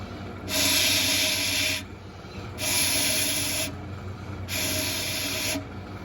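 Air pushed through a freshly drilled 5.5 mm mouthpiece hole in a ram's horn shofar gives three hissing breathy rushes, each about a second long with pauses between, close up over a low background hum.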